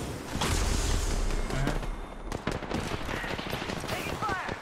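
Gunfire in Apex Legends, with repeated bursts of shots across a busy battle mix and voices speaking over the fighting.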